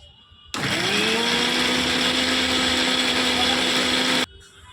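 An electric grinder whirs loudly and steadily for nearly four seconds as it blends spice paste with a little water, starting and stopping abruptly against a quiet room.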